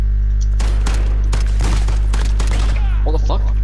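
Rapid bursts of gunfire from a Call of Duty Modern Warfare match, several sharp volleys crackling in quick succession at close range, with brief talk mixed in between the shots.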